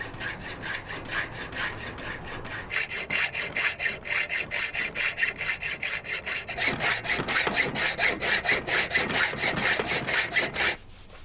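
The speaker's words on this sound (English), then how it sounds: "you've just sanded the steps" Hand sanding of wooden steps on an ocean-going catamaran, a steady run of rhythmic rasping back-and-forth strokes that grow quicker and stronger midway, close and alone before stopping abruptly near the end.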